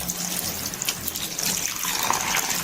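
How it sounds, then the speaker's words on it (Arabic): Water runs steadily from a bathroom tap during rinsing, a continuous hissing splash close by with slight fluctuations and no talking. "هبتدي بقى اشطف"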